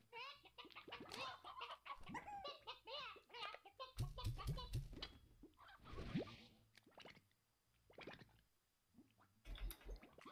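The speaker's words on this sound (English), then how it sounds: "There's hens and roosters down where I am." Hens and roosters cluck in the video game Slime Rancher, with short bursts of bird sounds scattered among game effects.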